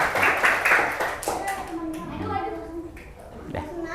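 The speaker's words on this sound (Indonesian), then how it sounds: "Balik tepuk tangan." Classroom applause, a burst of many hands clapping loudly at first and fading, with children's voices chattering over and after it.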